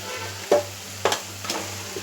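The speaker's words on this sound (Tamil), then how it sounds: "1/2 கிலோ சிக்கன் எடுத்து வச்சுருக்கேன், அதை நம்ம அதில் போட்டாச்சு" Half a kilo of salted, turmeric-washed chicken fries in a pan with sautéed onions, a steady low sizzle broken by three or four scraping stirs of a utensil, close by with no talk.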